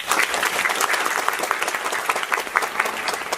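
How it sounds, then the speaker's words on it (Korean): An audience applauds the cast during the final-performance curtain call of a staged reading musical of The Little Prince, with steady, dense clapping that stays loud and even from start to finish. "다시 한 번 박수 부탁드릴게요"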